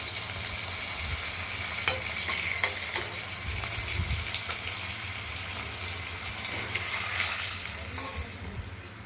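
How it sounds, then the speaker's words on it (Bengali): Katla fish pieces frying in a pan crackle in a continuous bright sizzle with scattered pops, close and steady throughout, easing slightly at the very end. "ঢাকনাটা খুলে আমরা দেখে নিচ্ছি মাছগুলো ভাজা হয়ে গেছে"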